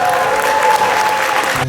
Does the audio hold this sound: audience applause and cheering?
yes